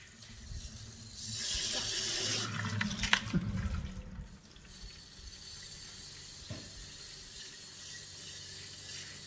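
Running tap water splashes as a Lot-o rock tumbler barrel is rinsed, a loud gush for a few seconds with clunks of the barrel, then quieter dripping and handling.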